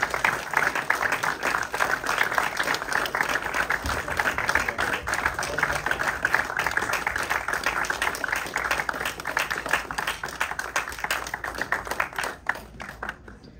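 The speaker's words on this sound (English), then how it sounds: "Keep clapping. This deserves an extended clap." An extended round of clapping comes from a film festival audience at a Q&A for Caligula The Ultimate Cut, a long, dense, even rattle of hands that thins and tapers away in the last second or so.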